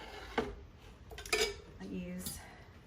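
Pasta being tossed in a pan with butter, cheese and cream, giving a few sharp clanks of utensils against cookware amid soft scraping, close up; no talk.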